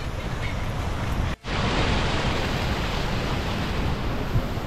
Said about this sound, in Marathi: मस्त पाऊस चालू झाला